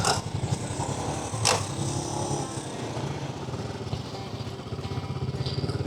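A Royal Enfield Bullet 350 motorcycle is ridden on a long road trip. Its engine gives a steady, low, thumping drone under constant wind rush, with one brief sharp click partway through.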